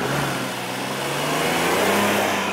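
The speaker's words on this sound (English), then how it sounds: "All right, so the road test, and this is where we will see the Palisade's best and worst work." A Hyundai Palisade accelerates steadily on a road test, its mid-pitched engine note rising gently over constant road and wind noise, heard from inside the cabin with no talking.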